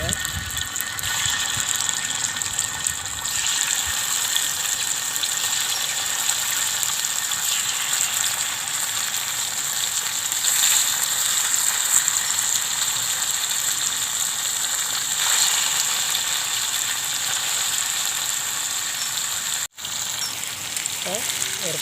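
Fish frying in a little oil on a hot stone griddle over a wood-fired village stove, a steady broadband sizzle crackling near and fairly loud throughout, with a brief dropout near the end.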